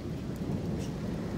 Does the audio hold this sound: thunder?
yes